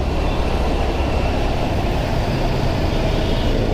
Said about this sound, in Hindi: मेट्रो आ रहा है इधर से।